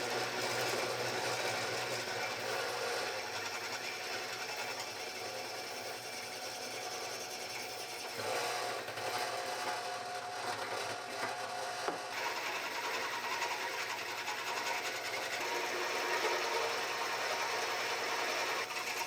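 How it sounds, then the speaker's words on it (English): A drill press whirs and grinds continuously at close range, drilling 3/8-inch holes in car parts, a rough mechanical buzz that shifts in tone as the drill cuts, with brief louder moments. "Got the drill press, might as well use it."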